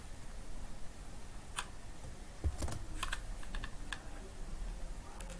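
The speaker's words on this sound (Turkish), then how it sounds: "Mesela alt delete'e basıyorum." Computer keys are pressed in short, faint clicks, a few scattered single taps and small clusters, quiet against a soft background hiss.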